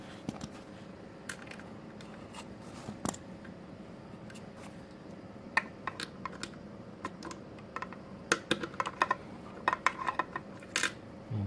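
A small socket set tightening a bolt on a Ferroli boiler fan gives sparse, close metallic clicks and ratcheting ticks, quiet at first, then busier and sharper toward the end over a low steady hum.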